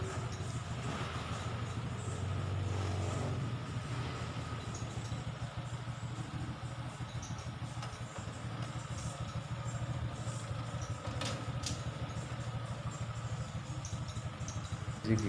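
A Honda Supra X 125 motorcycle with a faulty manual clutch idles in first gear without moving, giving a steady, fairly quiet low engine hum with no pauses.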